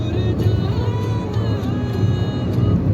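Steady low road rumble of cars on a highway near Ahmedabad, heard continuously from inside a moving vehicle with a broad engine and tyre drone and no clear passes.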